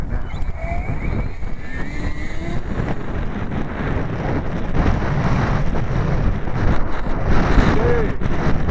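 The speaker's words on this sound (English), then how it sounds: "Got a good headwind right now." Strong headwind gusting around 25 mph buffets the microphone at an RC flying field, a constant low roar that grows louder and rougher partway through.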